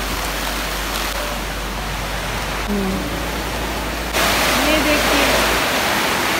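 Heavy rain pours down on a village, a steady loud broadband wash that grows louder partway through, with a brief murmur from a person.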